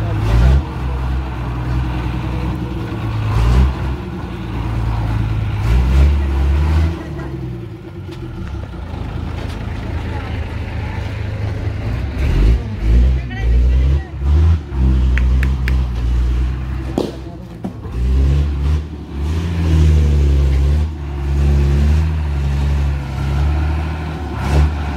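An old abandoned bus with a faulty power steering rumbles steadily as it is driven, its low engine drone rising and falling with revs while someone talks over it.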